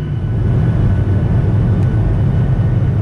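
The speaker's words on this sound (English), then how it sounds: "Okay, cleared for takeoff." A commercial passenger airliner takes off during the coronavirus pandemic, heard from inside the cabin as a steady, loud, low engine roar with constant rumble throughout.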